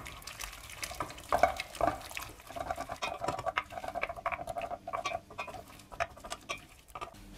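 Water poured into a pan of pasta alla carbonara produces a soft, steady patter and splashing with light clinks, faint and close in a home kitchen with no talking.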